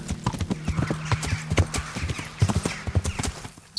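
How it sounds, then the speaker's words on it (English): Hooves clip-clop in a quick rhythmic trot as a horse is called over in the medieval game Kingdom Come Deliverance, with a whinny partway through, close and fairly quiet. "I guess we're gonna call the horse."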